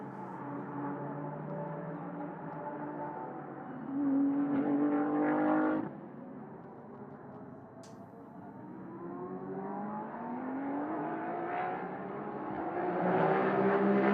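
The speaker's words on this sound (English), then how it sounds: "The 3-litre V6 in that Maserati, relatively new soundtrack to Ultimate Cup competition" A Maserati MC20 race car with a 3-litre V6 runs at Paul Ricard in Ultimate Cup racing, engine note rising through gears and surging, then fading and building again, mid-distance.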